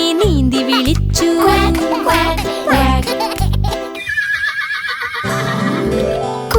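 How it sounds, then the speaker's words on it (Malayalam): A horse whinny sounds midway through a Malayalam children's animal-sounds song. It is a single rising, drawn-out call between stretches of sung melody and bouncy backing music. "കുതിര വന്നു കുതിര വന്നു"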